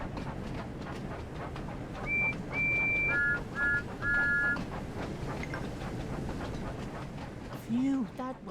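A train whistle in Thomas and Friends: Wonders of Sodor sounds in several short steady toots in quick succession, clear over rumbling rail noise and background music, with talk before and after.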